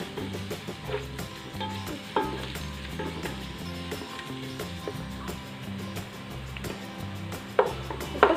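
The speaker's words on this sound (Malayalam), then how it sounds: "ഇഞ്ചി വെളുത്തുള്ളി ചതച്ച് ചേർത്ത് കൊടുക്കാം രണ്ട് പച്ചമുളകും ചേർത്ത് കൊടുക്കാം ഇത് നന്നായിട്ട് വഴറ്റി കൊടുക്കണം" Crushed ginger, garlic and green chillies sautéing with onions in a pan, a soft continuous sizzle under repeated scraping and tapping of a spatula, with a few louder knocks near the end.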